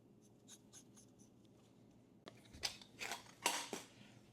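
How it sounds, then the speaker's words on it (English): A knife blade scrapes and cuts around rolled pasta dough for lobster ravioli on a board, starting faint with light scratchy strokes, then a run of louder crisp cuts toward the end, close up with no talk. "I'm just going to use a knife to cut around this."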